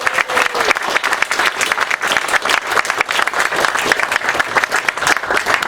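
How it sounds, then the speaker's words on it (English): Sustained round of applause from an outdoor groundbreaking ceremony crowd for the volunteers of the Cochituate Rail Trail, dense steady clapping throughout with a faint voice near the start. "I'd like to give a round of applause to all the volunteers"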